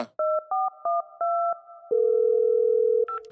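Telephone tones: a string of short two-tone dialing beeps, then a long steady ringback tone, clear and close with no talking.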